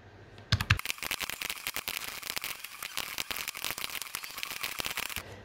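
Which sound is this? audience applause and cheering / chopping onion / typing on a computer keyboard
typing on a computer keyboard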